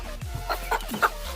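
A few short, close clucks from chickens, spaced irregularly over a second or so.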